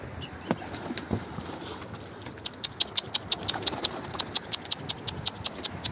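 A white-tailed pigeon takes off, giving a quick run of sharp, rhythmic wing claps that start soft and build to a steady, evenly spaced burst over faint background noise.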